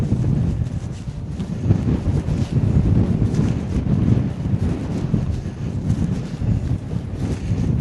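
Strong wind gusting beside the River Frome, a continuous low roaring buffet across the microphone with uneven surges and no voices.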